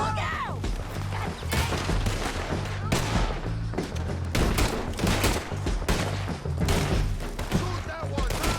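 Gunfire rattles through a fight in Red Dead Redemption 2, dense overlapping shots and bursts running continuously at close range alongside a steady low musical drone, with no clear gaps.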